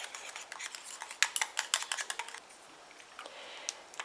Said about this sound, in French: Voilà, et je mélange.